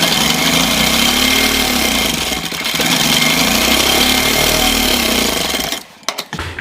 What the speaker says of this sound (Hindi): तो अब हम यहाँ से भी एक पैर की सिलाई लगाएंगे, पक्का करेंगे यहाँ पर।